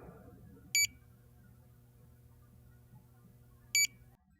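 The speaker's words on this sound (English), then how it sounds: "Beep reminder allows you to set an audible beep whenever a button is active" Two short, sharp electronic beeps from a Federal Signal control button reminder sound about three seconds apart over a quiet, humming background.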